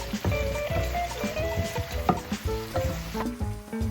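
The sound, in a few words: garlic sauteing and sizzling in oil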